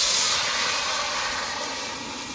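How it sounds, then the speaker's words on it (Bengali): Water poured into a hot kadai, just used to fry prawns for a pumpkin-greens dish, gives off a loud, close, continuous steamy hiss that eases slightly as it goes on. "এখন শাকটা রান্না করার জন্য কড়াইতে জল দিয়ে দেবো"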